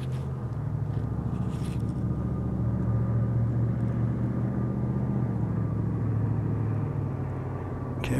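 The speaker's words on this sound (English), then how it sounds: "I can hear an aircraft right there." Steady low engine drone of an aircraft flying nearby, heard from a hilly trail area, continuous and fairly loud throughout with no talking.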